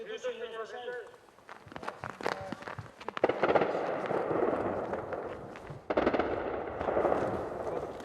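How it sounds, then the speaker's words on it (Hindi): Ukrainian soldiers firing mortars from inside a city, sharp heavy blasts and crackling bursts echoing between buildings, with voices talking early on and rustling movement between the loud reports. "शहर के अंदर से यूक्रेनी सैनिक मोर्टार दाग रहे हैं"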